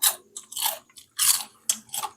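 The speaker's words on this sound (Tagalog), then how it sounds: "Malutong yung chicharon." Crunchy pork rinds (chicharon) being bitten and chewed up close, a string of sharp crackling crunches in uneven bursts with brief quiet gaps between bites, during a graveyard mukbang meal.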